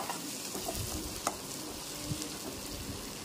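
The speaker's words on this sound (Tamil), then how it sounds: "இன்னொரு அடுப்பில் வாணலி போட்டு எண்ணெய் ஊற்றி பட்டை கிராம்பு தாளிச்சிட்டு வெங்காயம் தக்காளி எல்லாத்தையும் போட்டு நல்லா ஃபைனாக பொன்னிறமாக வறுத்துக்கோங்க" Onions and tomatoes frying in oil in a pan with cinnamon and cloves for a mutton kulambu, a steady soft sizzle with a few light stirring clicks, close and alone.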